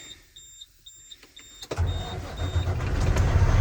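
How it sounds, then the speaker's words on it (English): An oilfield truck's engine comes in as the PTO pump engages: near silence with faint beeping tones, then a sudden loud, steady mechanical roar that continues to the end. "Pull that clutch out right there, and the pump should start going again."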